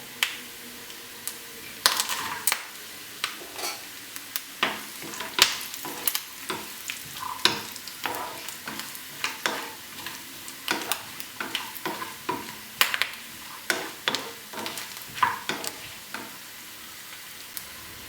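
Nuts and coconut pieces fry in hot fat for pumpkin payasam, a steady close sizzle broken by frequent sharp clinks and scrapes of a spoon stirring in the pan, with no talking.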